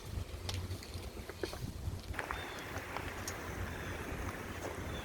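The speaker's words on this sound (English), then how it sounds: "It's a little windy here today." Steady wind rushing outdoors with low rumbling gusts buffeting the microphone, plus faint scattered crackles and knocks from a wood fire, no talking.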